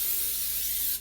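Cooking spray hisses steadily into an empty bread pan, one close continuous burst of aerosol lasting about a second with no other sound.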